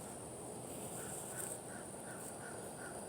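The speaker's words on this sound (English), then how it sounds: "there's this crow stalking my birds" Faint, distant crow caws repeat every few tenths of a second over a steady background hiss.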